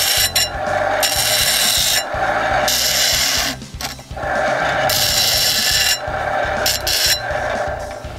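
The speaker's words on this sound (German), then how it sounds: "Hier gibt es eine Schleifmaschine. Die ist zwar handbetrieben, der Lulzim treibt es jetzt einmal an." A hand-cranked grinding machine working at an outdoor 3D archery course, a loud, steady rasping grind that runs in long bursts with brief pauses and one deeper dip partway through.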